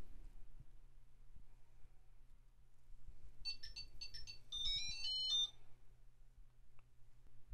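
During setup, a Tile Mate key finder chirps a short, high electronic melody of rapid beeping notes, sounding for about two seconds midway through an otherwise quiet room.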